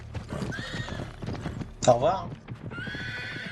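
Horse hooves clip-clopping and a sharp whinny from a mount in the video game Uncharted 3, mixed with game music and a voice speaking over it.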